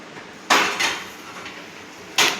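A metal pan is set down on a stove in a home kitchen, giving a sharp clank, a softer follow-up knock and another clatter a moment later, close and loud against quiet.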